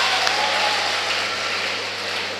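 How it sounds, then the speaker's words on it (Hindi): Audience clapping at a Hindi comic poetry gathering in Moradabad, a steady continuous wash of applause from a crowd that fills the whole stretch without a break. "देखो ताली यूं करके बजनी लग जाएगी।"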